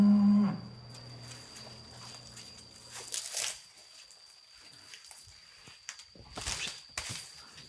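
A white cow moos loudly nearby at the start, followed by quieter rustling and crunching sounds as it is being fed, with some brief noise bursts later.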